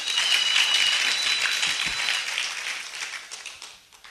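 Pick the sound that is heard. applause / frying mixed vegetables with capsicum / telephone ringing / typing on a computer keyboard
applause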